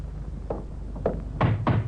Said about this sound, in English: Suppose we knock on her door.